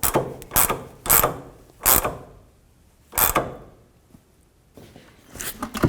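A hand ratchet tightens the rear shock nut on a 2007-13 Toyota Tundra, sounding as a handful of loud, close clicking bursts spaced apart with quieter pauses between.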